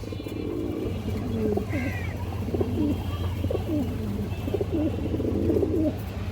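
A pair of Gorra pigeons coo near a vendor's pen, soft throaty rolling calls repeating in short phrases over a constant low hum, close and clear throughout.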